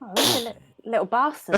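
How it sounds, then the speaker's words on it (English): A single sharp sneeze bursts out near the start during a tabletop Dungeons & Dragons livestream, loud and close, followed right away by someone talking. "Was that a sneeze?"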